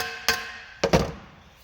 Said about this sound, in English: gonna hammer like this.